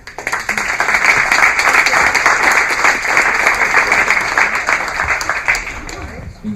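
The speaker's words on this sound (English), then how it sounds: "Another warm applause for Niko." Warm audience applause after a talk fills the room loudly and densely, holding steady for several seconds before tapering slightly at the end.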